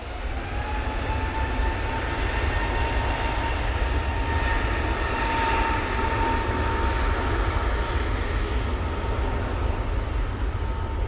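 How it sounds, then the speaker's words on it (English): An Airbus A321neo airliner taking off at Manchester Airport makes a sustained, broad engine roar with a faint whine, heard from a distance, steady and without talking. "So this one's off to Dubrovnik using the 321 Neo."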